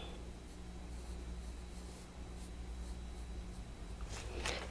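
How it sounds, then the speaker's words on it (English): A pencil sketches a horizon line on paper for a grayscale tropical sunrise drawing, a faint scratchy rasp of strokes under a steady background hiss, ending in a few brisker strokes. "I'm just going to draw a little bit here."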